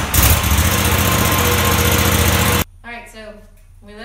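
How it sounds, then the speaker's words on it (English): A Ferris IS 3200Z zero-turn mower engine runs steadily while warming up, a loud, dense, constant drone that cuts off abruptly, after which someone talks over a quiet background. "start the engine up and let it warm up and circulate for about 5 or 10"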